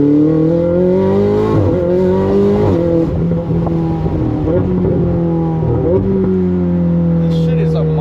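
A 2019 Ferrari 488 Spider accelerates hard, its engine note climbing through the revs and dropping at each upshift before climbing again, loud and close throughout.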